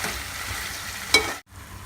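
Egg bhurji masala frying in oil in a pan, a steady close sizzle with one brief louder stir midway and a short quiet gap near the end.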